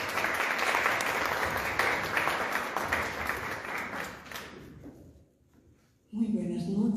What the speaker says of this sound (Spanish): Recibamos con este aplauso